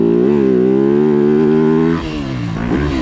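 A Yamaha YZ250F motocross bike on a dirt track, its engine loud and close, holding a steady high drone before dropping in pitch and revving again, no talking.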